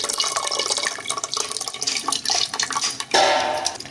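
Tamarind pulp juice is squeezed and poured into tomatoes for Telugu-style tomato rasam, giving a steady wet trickling and splashing of liquid, close and continuous, with a brief stronger pour near the end.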